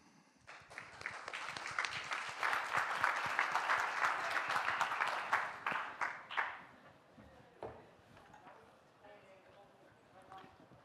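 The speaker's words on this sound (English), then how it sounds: "please give a round of applause for Fluvic" An audience at a climate-resilience startup pitch competition applauds warmly for several seconds, dense clapping that thins out into a few scattered claps and fades.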